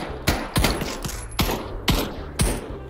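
Bursts of gunfire in the virtual reality game Trouble in Terrorist Town, six sharp, close shots in uneven succession, some doubled, with no talk underneath.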